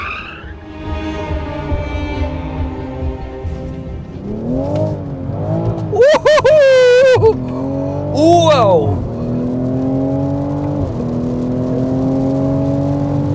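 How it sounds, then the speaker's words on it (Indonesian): A loud 2020 Toyota GR Supra engine revs and whines through a long drift, pitch climbing and falling in sweeping arcs, with a brief excited shout over it. "sangat mudah untuk melakukan aksi drifting seperti yang Anda lihat tadi"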